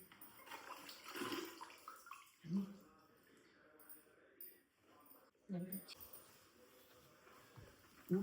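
Kitchen items are rinsed with detergent water in a home kitchen, with intermittent splashing and running water in short bursts while someone talks over it.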